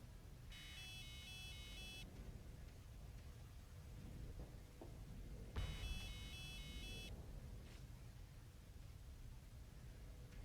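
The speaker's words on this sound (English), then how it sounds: "these alarm sounds are also custom from the mod" Two bursts of a repeating electronic alarm tone from the Starsector space game, custom sounds from a mod, each lasting about a second and a half over a low rumbling combat background, faint overall.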